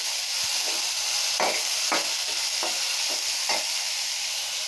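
Finely chopped onions fry in a hot pan with a steady bright sizzle, while a utensil stirs and scrapes through them in several distinct, regularly spaced strokes, close and fairly loud.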